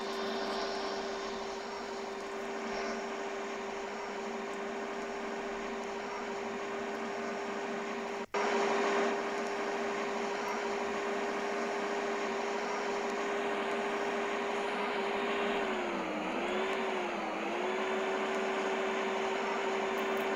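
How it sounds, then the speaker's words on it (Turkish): A bus engine in a mobile bus simulator game gives a steady, vacuum-cleaner-like whine over a broad hiss. It breaks off for an instant midway, then returns, and its pitch dips and recovers near the end. "Süpürge makinesi gibi ses çıkartıyor."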